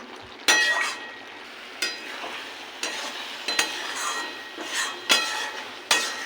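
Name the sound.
ridge gourd and potato curry simmering down in pan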